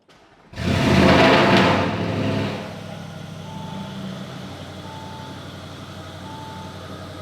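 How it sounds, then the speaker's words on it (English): An Audi RS6 fitted with a downpipe exhaust fires up with a sudden loud roar that holds for about two seconds, then settles into a steady rumbling idle, with faint periodic beeps in the background. "And now I'm gonna turn on the car."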